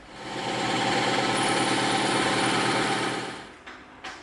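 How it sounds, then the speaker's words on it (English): A bandsaw slices through a thick slab of EVA foam, a steady loud buzzing whine holding for about three and a half seconds, then cutting off, with a couple of short bumps after it stops. "we'll just feed this through the bandsaw"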